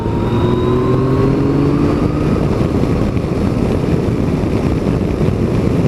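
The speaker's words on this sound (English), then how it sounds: "I'm going to accelerate away, see what the torque feels like." A Yamaha Tracer 900 GT motorcycle with its 850cc engine pulls away hard from a roundabout in third gear, a loud, steady engine drone whose pitch rises under heavy wind noise.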